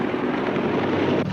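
A helicopter in flight, its rotor and engine making a steady, dense roar with wind rush, loud and unbroken across the moment.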